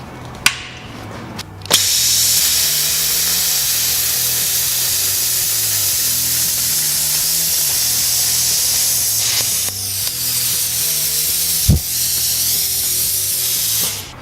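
A Hypertherm Powermax 45XP plasma cutter firing with a sharp pop and then holding a loud, steady hissing roar of arc and air for several seconds, broken by a brief dip and a crack near the end.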